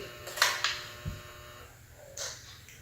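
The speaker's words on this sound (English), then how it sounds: "sorry about the dryer." A clothes dryer runs in the background with a low, constant mains-like hum, overlaid by a few short clicks and rattles of handled plastic airsoft gear.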